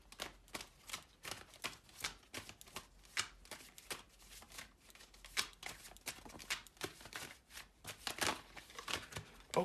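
Soft, quick riffling and slapping of Moonology Oracle cards being shuffled by hand, in irregular bursts of close, quiet rustling.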